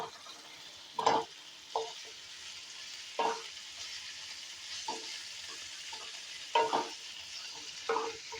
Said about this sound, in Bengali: একটু একটু করে ক্যাপসিকামগুলো দিয়ে নাড়াচাড়া করে পেঁয়াজের সাথে মিলিয়ে দিলাম।